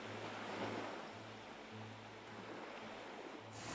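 Baltic Sea surf breaks against the soft chalk cliffs of Rügen near the Königsstuhl, a steady broad wash of waves with a low hum underneath, even and unbroken, with no voices.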